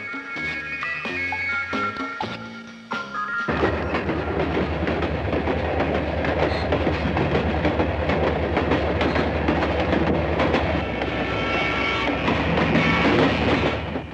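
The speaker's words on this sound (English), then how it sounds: "Some are for pulling passenger trains, others long freights over mountains" A train rumbles past on the rails, loud and close, its wheels clattering in a continuous rhythmic roar after a brief softer opening.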